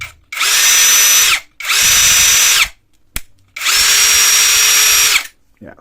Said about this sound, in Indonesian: Ya, suaranya khas bor generik yang grease-nya masih kurang banyak gitu ya.